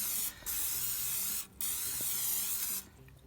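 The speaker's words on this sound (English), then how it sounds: "now you want to use your vegetable spray, and you want to spray all around the edges" Three long bursts of vegetable oil aerosol spray hissing close by, separated by brief pauses, with no talking.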